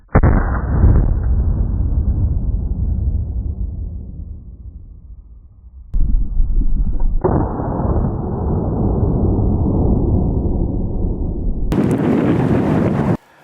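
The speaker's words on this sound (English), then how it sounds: "I'm going to test that theory with a CO2 canister I've placed beneath the magnet." A CO2 canister placed beneath a magnet bursts in a loud blast with a long roaring rush of escaping gas that fades, followed by a second burst and another sustained roar, ending in a sharp broadband crack.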